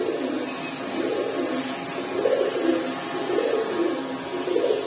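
Indian pigeons at a market coo in steady, repeating low throaty rolls, close and continuous against a dense, noisy background.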